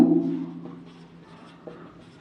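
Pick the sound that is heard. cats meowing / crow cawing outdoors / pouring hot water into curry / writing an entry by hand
writing an entry by hand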